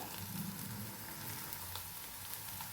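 Egg bhurji made from three eggs fries softly in a pan, a faint, even sizzle with light stirring, no speech.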